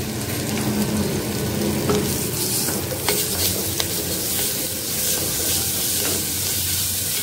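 Onion with ginger garlic paste sautéing in a pan for a radish white kurma, a steady close sizzle and fry with occasional stirring scrapes throughout, no talking.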